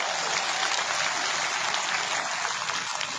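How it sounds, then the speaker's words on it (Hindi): Steady, dense applause from a large crowd at a political rally fills the whole stretch, loud and even without any break. "जोरदार ताली के साथ,"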